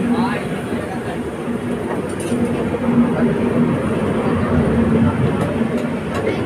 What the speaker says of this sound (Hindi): मेरे ख्याल से बिहार संपर्क क्रांति की क्लोन लग रही है ये, जिसका अभी समस्तीपुर पे अराइविंग हो रहा है